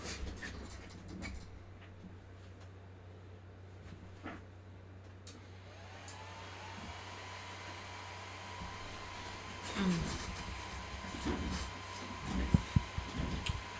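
Networking equipment booting up gives off a steady mechanical whir like a fan, with faint clicks and a brief rise in the middle. A louder clatter and some knocks come near the end.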